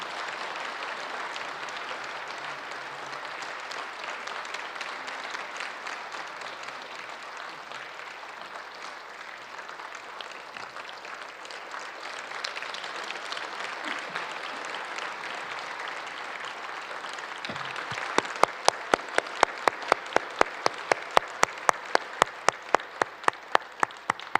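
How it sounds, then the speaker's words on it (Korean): A church congregation at a 130th-anniversary service applauds to welcome a missionary: a broad, steady roar of clapping that swells slightly, then gives way to a few loud, evenly spaced claps near the close. "큰 박수로 환영해 주시면 감사하겠습니다"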